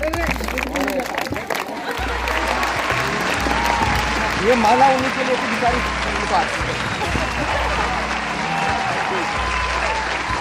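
An audience at a school Basant Panchami festival applauds loudly for a teacher on his birthday, a thick sustained wave of clapping and crowd noise with a voice speaking over it.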